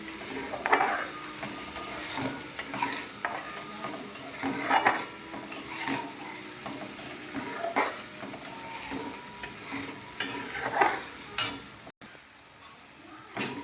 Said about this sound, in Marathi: मीठ टाकल्याच्या नंतर परत हलवून घेऊ.